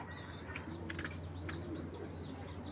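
Pakistani pigeons coo faintly in a quiet setting, soft low calls mixed with a few light chirps, and no one speaks.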